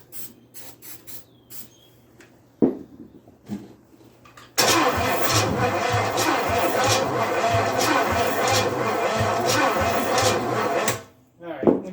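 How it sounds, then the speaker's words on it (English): An Oldsmobile 350 V8 cranked over on its starter, a sustained rhythmic churning of about six seconds after a few clicks and clunks, with people talking before and after the cranking. "At least the starter's working."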